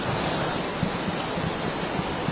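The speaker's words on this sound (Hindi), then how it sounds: "बादल फटने के बाद गजब का सैलाब आया है" Floodwater after a cloudburst in Sahastradhara, Dehradun rushes through streets as a steady, dense hiss and roar, continuous and fairly close, with no voices over it.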